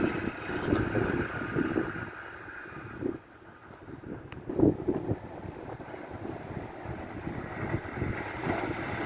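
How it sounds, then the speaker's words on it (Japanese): Strong wind roars across the microphone outdoors by the railway at Sanno and Otobashi, a steady low buffeting rumble that swells in gusts, eases briefly, then builds again, loud and continuous with no talk. "風が強い"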